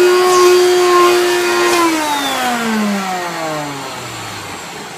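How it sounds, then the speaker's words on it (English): A Hoover PowerMax vacuum cleaner with its hose attached runs loudly and roughly, its motor whine gradually sliding lower in pitch as it winds down. "I don't want to run it too much because I feel like it's going to explode because it's really loud and ratchety"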